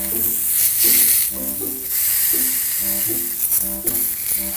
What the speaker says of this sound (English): Get ready for the sizzle.